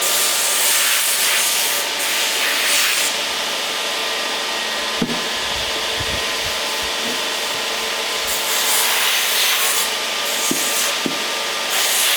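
Orange oil polish rubbed onto a wooden axe handle, a steady close scrubbing and rubbing that continues for the whole stretch with a few small knocks, and no talk.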